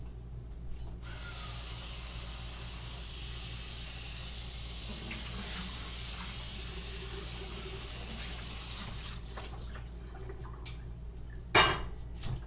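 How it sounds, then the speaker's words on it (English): Tap water runs steadily into a kitchen sink while a cooking pan is rinsed, a continuous hiss with faint clinks, then the flow stops and a sharp clunk of the pan follows. "put that aside for a moment and rinse out our pan"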